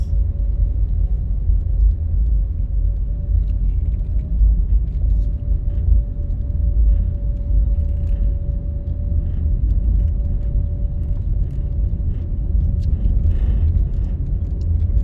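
A car driving along residential roads, a steady loud low rumble of engine and road noise inside the cabin, with no talk.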